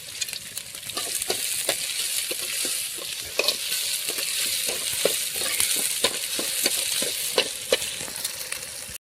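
Crushed garlic, onion and curry leaves fry in hot oil for a mutton liver fry, a steady close sizzle punctuated by repeated scraping stirs of a spatula against the pan, with no talking.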